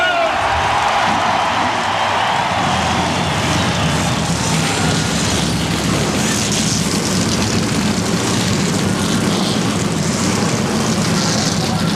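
Thirty-two NASCAR Winston Cup stock car engines firing up at Bristol Speedway, Tennessee, in 1991, a loud continuous roar of many engines blending into a dense wall of sound amid a large stadium crowd.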